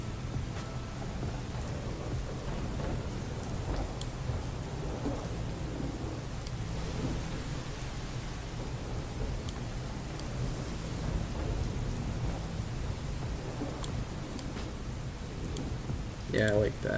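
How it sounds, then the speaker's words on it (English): Steady rain with rolling thunder from a thunderstorm, a continuous dense wash of rainfall at an even level, with low rumbles swelling throughout and no talking. "Maybe a little less on the storm."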